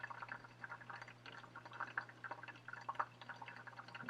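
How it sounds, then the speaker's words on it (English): Water slowly poured over ground coffee in a pour-over brewer, a faint, soft trickle with small irregular splashes and drips over a steady low hum. "It's not moving too quickly, so I slow down the pouring."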